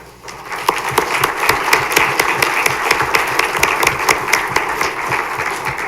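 An audience at a Greeley-Evans School District 6 board of education meeting applauds All-State band, choir and orchestra students: steady, close clapping that starts abruptly and holds for several seconds.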